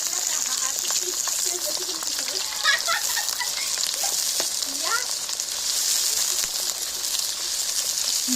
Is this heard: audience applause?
no